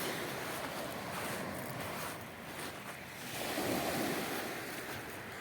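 Steady wash of ocean surf rolling in, with broadband roar swelling and easing, a bit of wind buffeting the microphone.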